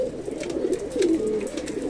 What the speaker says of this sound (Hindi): आ भाई सारा कबूतर बाहर आ रहा है।